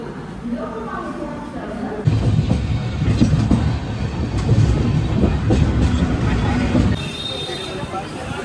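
A train rumbles loudly past at a station, steady wheel noise and clatter building in the middle, with people talking in the background.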